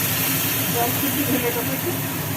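Spice paste frying in oil while water is splashed in for khichuri, giving a steady, loud, dense hiss and sizzle that fills the whole clip.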